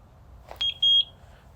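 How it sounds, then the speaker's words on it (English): Two clear electronic beeps from a Eufy smart drop box during Wi-Fi sync, the second longer than the first, loud and close in a quiet room. "Should hear 2 beeps."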